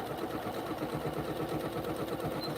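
A sewing machine runs a steady back-stitch through a zippered vinyl pouch, its quick even needle clatter and motor hum continuous and fairly quiet.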